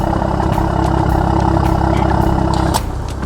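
A loud, deep BMW X3 M40i valved exhaust drones steadily at idle with the valve open, then drops abruptly in volume near the end as it closes.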